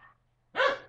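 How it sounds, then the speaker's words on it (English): A dog gives a single sharp, close bark after a faint brief whimper and a moment of near silence, with no voices present. "My dog is barking."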